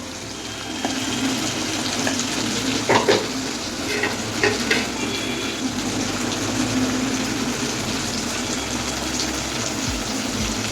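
Potato and pea curry with softening tomatoes sizzles steadily in a pan while being stirred, a continuous close frying hiss with scattered scraping clinks from the spoon and no talking.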